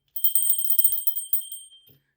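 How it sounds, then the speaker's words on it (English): Small bells jingling and rattling as they slip from lotion-slick hands, a bright shimmering cluster of chimes that fades out after about two seconds, heard alone without talk. "Just put lotion on my hands and bells slipping out of my hands"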